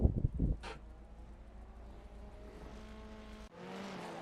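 Race car engine noise from the iRacing sim in IMSA prototype and GT racing: a loud, steady droning engine note with a rough burst at the start and a brief cut near the end, without talk.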